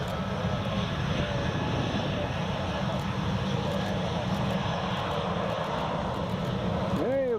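A Jet2 airliner passing by at Newcastle Airport in a crosswind, a loud, sustained engine roar with steady tonal whine, close and continuous, ending in a rising, shifting tone as it moves past.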